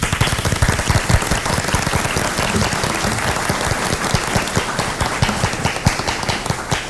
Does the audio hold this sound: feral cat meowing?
no